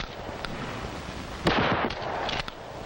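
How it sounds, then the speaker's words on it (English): A shotgun is fired from the hip at close range, one sharp loud blast ringing out over a noisy outdoor background. "Hip firing is used at close range, where most confrontations do occur."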